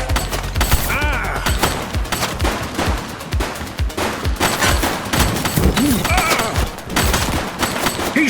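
Sustained gunfire in the police video game The Precinct, with a suspect shooting amid rapid bursts and scattered shots, loud and close, alongside game music and occasional radio-style voices.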